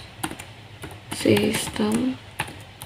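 Keys clatter on a computer keyboard in a series of quick taps with short pauses, while a person speaks over the typing.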